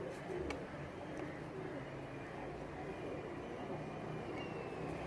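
A pure Fakir Gul female pigeon coos softly at a distance, low repeated murmurs over a steady background hum, with no talk in the moment.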